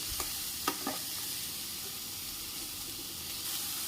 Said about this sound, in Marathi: पाच ते 6 मिनिट आपण ह्या मसाल्याला भाजून घेऊया